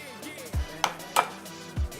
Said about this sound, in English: I'm gonna crack them into my bowl